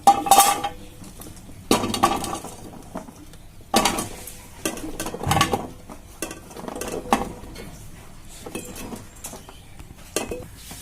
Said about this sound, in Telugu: క్యారెట్ ముక్కలు ములక్కాళ్ళు టమాటా ముక్కలు వీటన్నిటిని ఇందులో వేసుకుందామండి